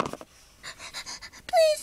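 A dog pants in quick, close, rhythmic breaths, followed by a brief high whimper at the end.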